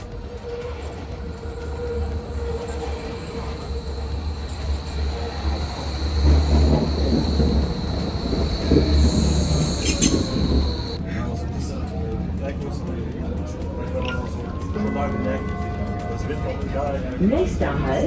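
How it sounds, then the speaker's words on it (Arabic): Rumble of an O3 U-Bahn metro train riding through Hamburg, a steady loud rolling drone with wheel and rail noise throughout, rising midway, while a voice talks over it. "وهون طبعا سكة القطار اللي بنروح منها، هذا القطار اللي هو او3"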